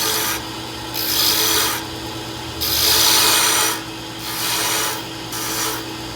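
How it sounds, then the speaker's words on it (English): A half-inch roughing gouge cuts sapele mahogany pen blanks spinning on a lathe, giving loud, rasping bursts of shaving that come in passes of about a second, separated by quieter gaps over the steady motor hum. "Now we move on to our 1/2 inch roughing gouge."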